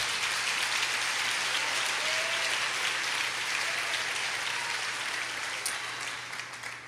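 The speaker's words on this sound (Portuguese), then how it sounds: "Pode aplaudir." A church congregation applauds together in a sustained, dense wave of clapping that holds steady for several seconds and then slowly thins out.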